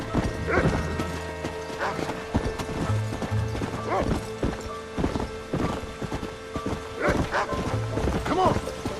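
Horse hooves clip-clop at a steady gallop in the Red Dead Redemption video game, rhythmic and fairly close, with intermittent talking and a dog-like bark over the hoofbeats.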